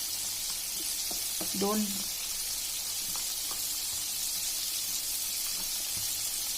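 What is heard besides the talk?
batter-coated chicken strips deep frying in oil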